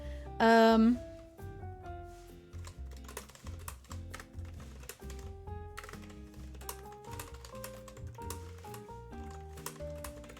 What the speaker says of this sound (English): Listen to these keys real quick.